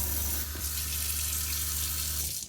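A sink tap in the galley of a Sealine Statesman 320 motor boat runs in a steady hiss of flowing water close to the microphone, with a low hum beneath, for about two and a half seconds before stopping.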